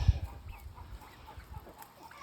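Soft, scattered clucks from a flock of meat chickens at a distance on a farm, faint against low rumbling background noise.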